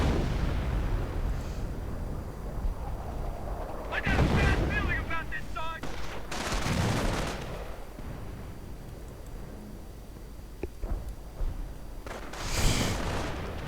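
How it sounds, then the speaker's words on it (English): Artillery shells land on infantry in a World War II real-time strategy game, sounding as heavy booming explosions in several bursts over continuous battlefield ambience, with rapid crackling gunfire between blasts. "Nice artillery right there, hitting several Volksgrenadiers."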